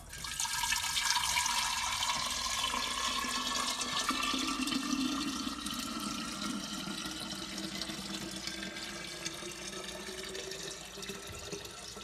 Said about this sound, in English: What you can do is you can start pouring the whey in there.